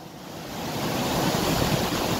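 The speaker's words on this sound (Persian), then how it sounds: "آبشار در نهایت قدرتش داره جلوه‌گری میکنه" Kiga waterfall on the Imamzadeh Davood road thunders at full power with snowmelt, a dense, loud, continuous roar of falling water that swells slightly and holds steady.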